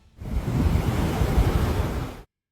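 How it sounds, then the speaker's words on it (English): Powerful ocean swell waves crash and roar against the French coastline, a loud, dense, sustained surf rumble that swells for about two seconds and then cuts off abruptly. "These powerful waves traveled across thousands of miles, eventually slamming into France's coastline"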